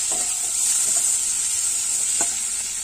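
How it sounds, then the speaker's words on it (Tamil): Dried fish and small shallots frying in hot oil, with steady sizzling hiss and a few scraping stirs of a spoon against the pan, close and continuous. "நல்லா கிண்டி விட்டுக்குருவோம்."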